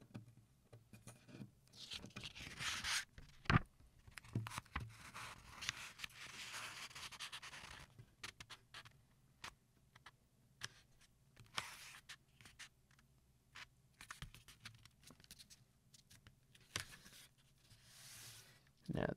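A sheet of paper is folded in half lengthwise by hand in a quiet, close-up ASMR setting: soft rustling, crinkling and scraping bursts come and go, with a sharper crease-like rub near the start and a few brief faint sounds between.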